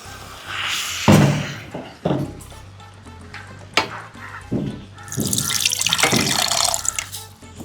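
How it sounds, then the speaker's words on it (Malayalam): Water splashes and runs into a grinder jar being rinsed in a home kitchen, with bursts of pouring, a few knocks and a sharp clank, then a longer rushing flow near the end. "ജാറ് കഴുകി വെള്ളം ഒഴിക്കാൻ പോവാട്ടാ"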